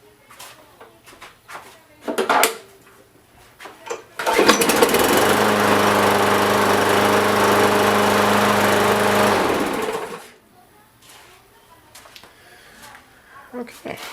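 A Yard Machine lawn mower with a dirty carburetor, freshly sharpened blade, adjusted throttle and new gasoline starts and runs loudly and steadily for about six seconds before cutting off, with brief talk and clatter before and after.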